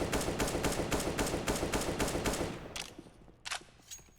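Rapid gunfire from an AWP sniper rifle during a competitive Counter-Strike match on the Mirage map, a loud run of evenly spaced shots for over two seconds, then a few sparser, quieter shots.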